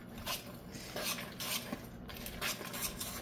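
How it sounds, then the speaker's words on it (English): A utensil stirs chocolate date walnut bread batter in a bowl, producing soft scraping and clinking strokes in an irregular rhythm, close and fairly quiet, with no voices. "So let me mix this up here."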